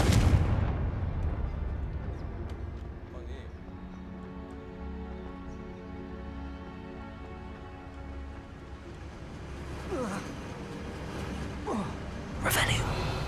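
Confringo blasting spells explode in the Hogwarts Legacy video game, a sharp burst at the start decaying into a long rumbling tail, followed later by whooshing spell sounds and another blast.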